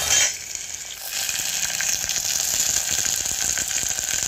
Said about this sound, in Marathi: कांदा छान परतल्यानंतर त्यामध्ये आपण टोमॅटो टाकूया